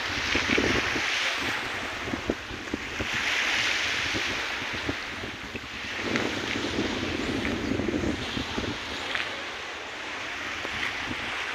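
Steady wind rushes and gusts outdoors at Talisayan, Misamis Oriental, swelling and easing over a broad, noisy roar like surf or water in the background.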